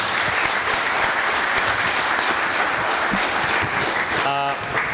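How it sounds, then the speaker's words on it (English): A conference audience claps steadily and loudly throughout, a dense sustained applause with no pauses. "let's give them a big round of applause"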